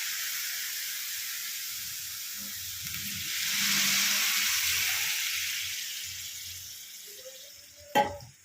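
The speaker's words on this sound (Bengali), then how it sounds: "এইবারে এতে যা চাল নিয়েছি তার ডবল জল দিয়ে দেবো, বাটি ধোয়া জলটাও দিলাম।" Water poured into a hot pot of fried rice for one-pot chicken pulao brings a steady hissing sizzle that swells midway and fades, ending with a sharp clink.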